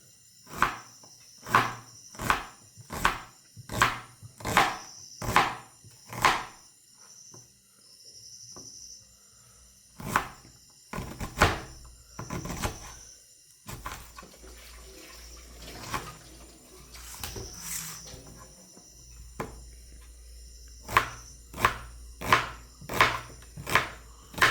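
Onions, garlic and green chillies chopped into small pieces on a board, a run of sharp, evenly spaced knife strikes, a quieter middle stretch with rustling and running water, then more rhythmic chops, close, with insects chirring in the background.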